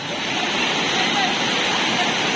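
Navlai Devi waterfall near Guhagar roars as a dense, constant broadband rush of falling water, loud and steady.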